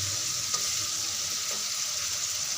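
Cumin seeds fry in hot oil in a pan with a continuous soft sizzle and a faint hiss, close by and steady. No one speaks during the short stretch.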